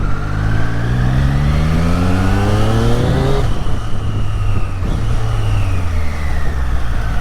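Triumph Street Triple 765 RS motorcycle engine under way, a loud, steady close engine note that climbs in pitch through the revs, drops sharply at a gear change, then pulls up again; no voices.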